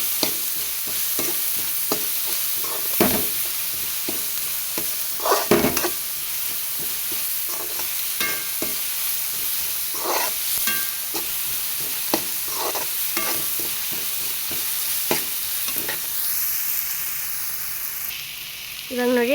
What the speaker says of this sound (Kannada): ಇದ್ರ ಜೊತೆ ಹೆಚ್ಚಿಟ್ಕೊಂಡಿರುವ ಟೊಮೆಟೊ ಸೇರಿಸಿ ಚೆನ್ನಾಗಿ ಫ್ರೈ ಮಾಡ್ಕೊಳ್ಳೋಣ